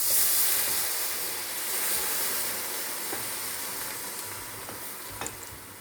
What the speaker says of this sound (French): Maintenant, je vais déglacer avec le vin blanc.